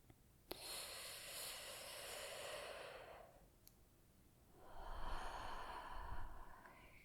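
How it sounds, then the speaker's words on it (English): Slow, deep breaths drawn close to the microphone in a quiet ASMR setting: a long airy exhale, a pause, then another breath, soft and unhurried with no talking. "Can you try and breathe with me? Okay, we're going to take 3 breaths."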